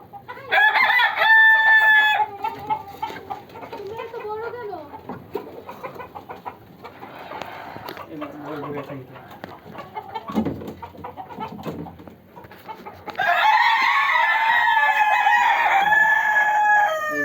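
Fayoumi chickens in a poultry yard with a rooster crowing loudly at the start and again near the end, between them a busy stretch of hens clucking and cackling up close.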